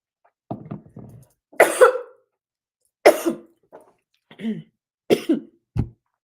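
A series of sharp, close coughs, five or six bursts spaced unevenly over several seconds with silence between them.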